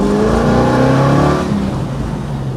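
A loud, close 1969 Chevrolet Camaro muscle car engine revving up as it accelerates on a road test, its pitch rising steadily, then easing off into a lower drone.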